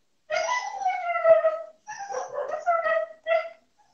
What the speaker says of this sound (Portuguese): ó o cachorrinho